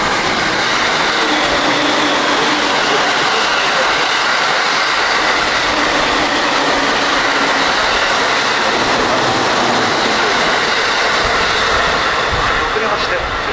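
An Omiya-bound electric train at the Higashi-Jujo station platform produces a loud, steady rumble and rushing roar for the whole stretch, while a platform announcement voice talks over it.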